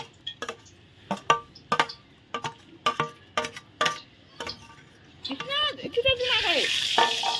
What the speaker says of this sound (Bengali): মাংসের তেল গরম হয়ে গেছে এখন আলুগুলো ভেজে নিচ্ছি